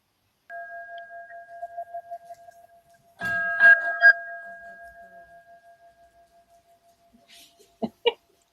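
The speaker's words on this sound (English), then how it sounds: "I got to ring this beautiful bell" A bell is struck and rings on in a long, pure, slowly fading tone, followed by a few sharper strikes and more ringing, set in near silence.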